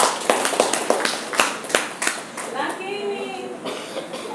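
An audience claps for vocational training graduates at an empowerment meeting, with bursts of applause that fade and scattered voices talking over it.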